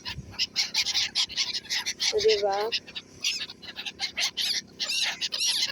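Birds squawk and chirp in frequent bursts while being fed bread outdoors in Dubai, with a short honking call standing out midway; a person talks briefly over the flock.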